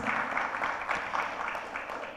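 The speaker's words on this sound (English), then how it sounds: "A big applause to all the artists." Audience applause for artists at the end of a performance event, a steady wash of many hands clapping, fairly loud and continuous throughout.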